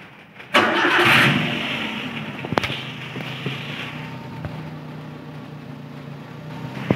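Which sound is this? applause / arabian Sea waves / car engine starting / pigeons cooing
car engine starting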